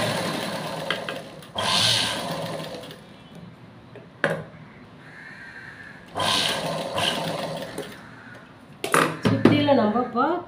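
A sewing machine stitches around a garment neckline in two sustained whirring runs, with a brief burst between them and clattering at the end. A person talks in the pauses.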